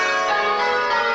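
Church bells ringing a change-ringing method, many tuned bells struck in rapid overlapping succession so their tones blend into a dense, continuous ringing wash, loud and steady throughout with no voices.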